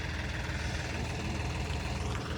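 A John Deere 5055 tractor engine idles steadily after an inline fuel pump repair, a continuous low, throbbing diesel rumble with a faint knocking rhythm and no voices.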